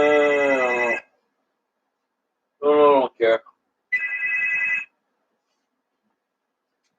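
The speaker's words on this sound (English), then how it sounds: "Oh, it's ringing." A phone rings in short bursts, a steady electronic trill that starts loud, stops, then returns with a couple of brief chirps and a longer ring, while a voice speaks briefly in between.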